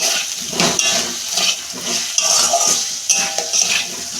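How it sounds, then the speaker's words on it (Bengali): Potatoes being stirred into fried spices in a metal pan, with repeated scraping and clinking of a spatula against the pan over a soft sizzle, close and fairly loud, no talking. "আলুটা দিয়ে আমি 2 মিনিট কষাবো"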